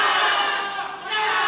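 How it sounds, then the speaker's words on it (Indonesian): Supporters of a candidate pair at a live regional election debate for regent and deputy regent in Indragiri Hulu, a loud sustained crowd roar of cheering and shouting filling the hall. "Kami silakan untuk pendukung paslon nomor urut 2 memberikan tepuk tangan kepada paslon yang didukung."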